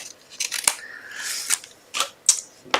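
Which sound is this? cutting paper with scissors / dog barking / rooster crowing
cutting paper with scissors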